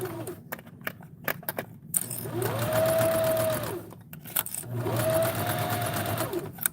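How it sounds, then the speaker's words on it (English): A sewing machine stitches through a zipper in two sustained bursts of steady whirring motor and rapid needle clatter, close up, with small clicks and handling noises in between. "I'm going to leave the needle down, and I'm going to raise my presser foot to get my zipper"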